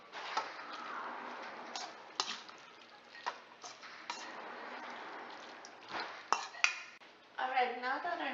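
A spoon stirs a kale, onion and garlic mixture seasoned with nutmeg in a pan, producing scattered clinks and scrapes against the metal, some sharper knocks toward the end, with a voice briefly heard.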